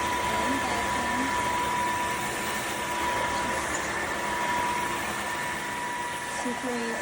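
A Dreame H12S wet-dry vacuum mop runs in auto mode, sweeping and vacuuming a floor with a steady, close motor whir and suction hiss, a voice speaking briefly over it.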